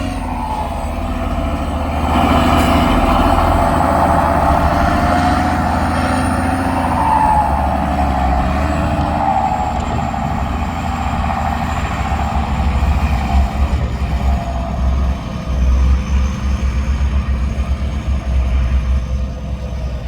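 A heavy truck engine rumbles loudly and continuously at a steady idle, deep and close, with no voices over it.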